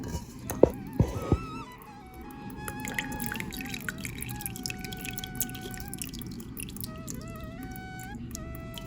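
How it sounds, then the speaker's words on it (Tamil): Heated sesame oil is poured into homemade village-style mango pickle, with soft dripping and trickling of liquid, a few sharper knocks at the start, and faint background tones. "காய்ச்சின நல்லெண்ணெய் நாம் உள்ளே சேர்த்துக்கலாம்."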